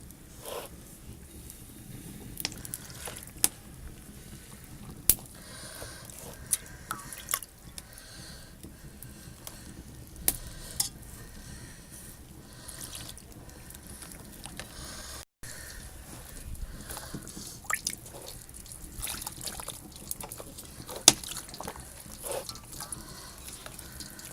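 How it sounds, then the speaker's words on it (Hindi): Gram flour batter for village-style besan laddu is stirred while water is added a little at a time, giving soft, wet squishing and scraping in quiet, irregular bursts up close. "थोड़ा थोड़ा पानी डाल के इसे इस तरह बनाएं ताकि इसमें गुठलियाँ ना बने।"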